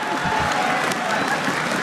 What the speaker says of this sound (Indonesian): Tepuk tangan sekali lagi untuk David, David.